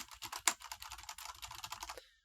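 Rapid keystrokes on a computer keyboard close to an Elgato Wave 3 microphone, a steady clatter of taps with one sharper hit early on, stopping abruptly near the end.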